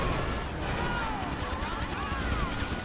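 Gunfire in GTA 5 Online during a store robbery shootout, a busy fusillade of shots sounding fairly distant and muffled, running steadily under game noise and faint voices.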